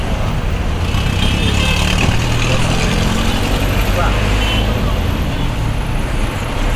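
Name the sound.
heavy street traffic in Kinshasa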